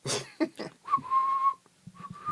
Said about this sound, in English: That's an epic intro with the whistle.